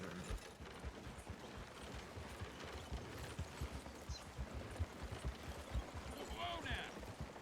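A horse in a Red Dead Redemption 2 roleplay session shifts and steps with soft, uneven hoof clops, tack creaking, and a brief whinny-like cry near the end.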